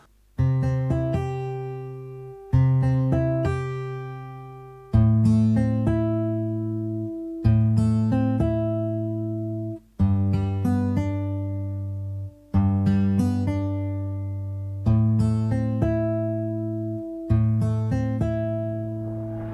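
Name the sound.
virtual guitar plugin playing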